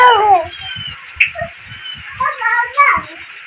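A cat meows several times in drawn-out, wavering cries, with low thumping noises underneath.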